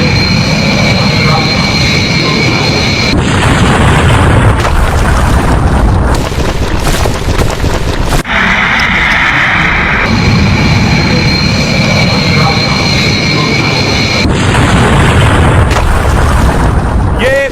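An animated airliner takes off from a runway and crashes into a building, rendered as a loud, continuous roar of engines and impact noise with abrupt cuts, the same sequence repeating.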